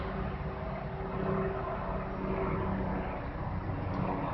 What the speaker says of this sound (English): when you hear those helicopters, those planes